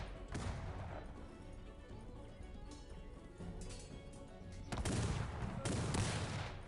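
Grenadiers firing volleys in the strategy game Cossacks 3, a dense continuous crackle of musket fire with heavier bursts of massed shots near the end.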